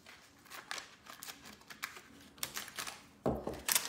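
Scissors snipping through paper stencil material while making a whimsical Christmas tree craft, a series of short, crisp clipping sounds at an uneven pace, close and fairly quiet, with a louder rustle near the end.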